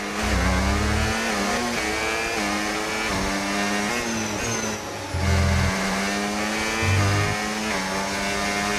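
An F1 25 race car engine screams at high revs while overtaking, its pitch climbing and dropping with each gear change, loud and continuous with brief low rumbles from nearby cars.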